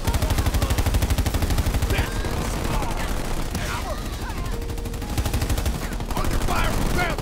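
Rapid bursts of automatic gunfire from a Halo Wars 2 real-time strategy battle, with repeated rattling volleys running through a busy mix of explosions and in-game unit voice callouts.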